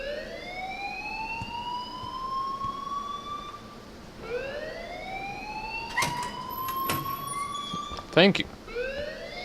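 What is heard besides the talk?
alarm ringing in the video game Life is Strange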